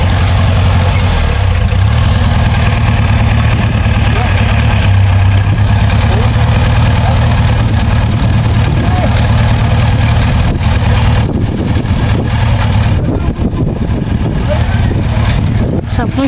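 A tractor engine idles and labours with an unsteady, struggling carburettor, a continuous low rumble throughout with speech over it and a brief dip near the end.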